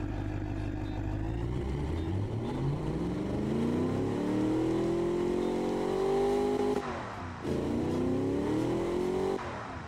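A Shelby Cobra 427 V8 engine in the Automation car game, revving up in long rising sweeps with a deep, loud, steady drone, briefly dropping off between pulls.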